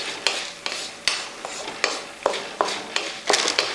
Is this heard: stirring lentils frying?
yes